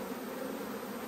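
Agitated honey bees swarm at an open hive, filling the space with a dense, continuous buzzing that stays close and steady with no pauses.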